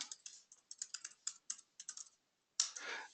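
Fingers typing on a computer keyboard, a quick irregular run of close, crisp key clicks with brief pauses, ending in a short louder clatter after a moment of silence.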